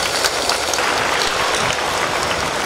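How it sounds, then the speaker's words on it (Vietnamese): A church congregation claps together at a Christmas Mass, a dense, continuous burst of applause filling the space for a few seconds. "Xin công đoàn chúng ta cho tràng pháo tay,"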